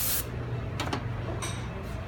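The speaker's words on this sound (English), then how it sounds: "spray brake cleaner" Aerosol brake cleaner sprayed onto car brake parts during a 2013 Hyundai Genesis R Spec brake pad replacement: a hissing spray at the start, then a few short bursts over a constant low background rumble.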